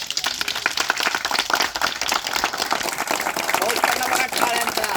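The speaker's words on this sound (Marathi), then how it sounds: "पाऊस पडला बघा टाळ्यांचा" A group of children at a school summer camp claps hands continuously in dense, fast applause, with voices talking under the clapping.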